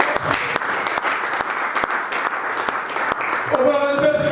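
Church congregation applauding and cheering for Jesus at a worship service in Metz, a steady crowd of claps and voices carrying on for several seconds, with a sustained tone rising near the end.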